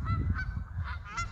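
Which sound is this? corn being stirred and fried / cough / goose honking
goose honking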